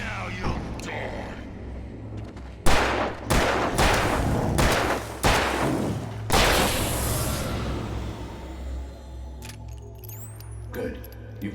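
A burst of several sharp video game gunshots rings out close and loud in quick succession, followed by a lingering rumble, with voices speaking around them.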